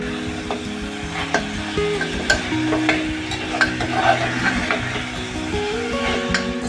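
Mutton fries and is stirred in a pan, a steady sizzle broken by repeated scraping strokes of a spoon against the pan, with no talking.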